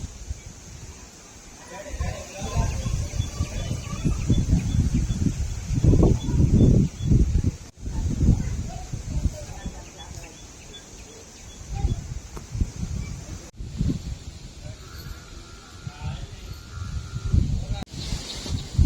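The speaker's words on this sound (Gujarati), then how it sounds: "અત્યારે થોડોક વાવાઝોડા જેવો પવન બીજો છે" A strong, stormlike wind gusts outdoors, buffeting the microphone in heavy low rumbles that rise and fall while a person talks throughout.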